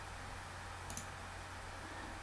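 A single quiet computer mouse click, a quick double tick, while working in heat exchanger software, alone against a steady low room hum.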